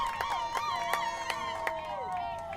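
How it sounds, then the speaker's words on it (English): GCSU fans cheer and shout in a basketball arena, a lively crowd roar with high excited yells and whoops rising and falling, overlaid by a commentator's voice throughout. "The GCSU crowd sure is excited."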